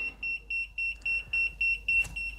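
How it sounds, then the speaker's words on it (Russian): A small Erickhill RT-100 EMF detector beeps rapidly and steadily, a high thin tone pulsing about four times per second, close and fairly quiet. "включу звук еще, чтобы вы послушали, как он пикает"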